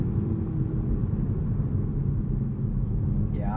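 Steady low engine drone and road rumble from a 2021 Toyota Supra 3.0 Premium cruising at a constant pace during a sunset drive, heard from inside the cabin with no voices.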